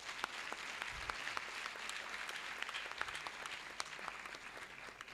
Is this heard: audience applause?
yes